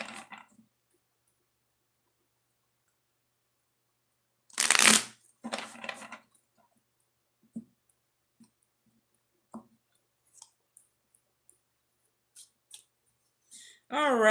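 Oracle cards are shuffled in two quick riffling bursts up close, followed by scattered soft taps and card handling in an otherwise quiet room, with a voice starting at the very end.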